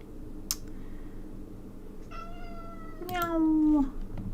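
A cat meows indoors, a short chirp followed by two drawn-out, wavering meows, the second louder and closer, with quiet background hum between calls.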